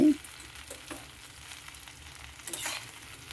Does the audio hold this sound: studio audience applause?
no